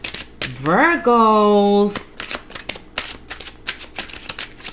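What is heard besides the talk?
shuffling tarot cards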